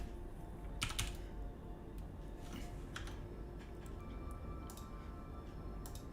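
Quiet, steady typing on a computer keyboard, with a run of soft key clicks over a low background hum.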